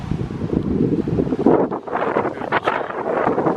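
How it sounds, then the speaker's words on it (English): Strong wind gusts buffet the microphone outdoors at a cedar glade natural area in Tennessee, producing a constant, uneven roar that swells and dips. "It's a very windy day"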